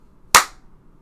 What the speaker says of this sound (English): I'm going to clap again.